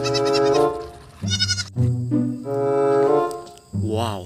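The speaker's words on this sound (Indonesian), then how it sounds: "Wih, kambing." A goat bleats repeatedly, several loud, wavering nasal calls in close succession, up close and with no other sound.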